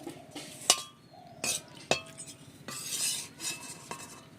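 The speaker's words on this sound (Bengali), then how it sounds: "এতে দিয়ে নাড়াচাড়া করছি।" A utensil clinks and scrapes against a pot while fried rice ingredients are stirred, giving several sharp separate knocks with softer stirring between them. The sound is quiet and close, and no one talks.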